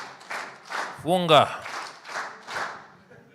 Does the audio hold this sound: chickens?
no